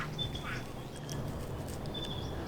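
Scattered birdsong at dawn in a still, foggy pine forest in wet western Queensland: a few thin, distant calls and chirps over a quiet, hushed background, with no talking.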